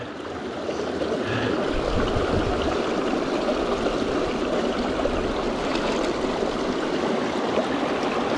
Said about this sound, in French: Et bravo à Batou qui a mis le pied dans la rivière.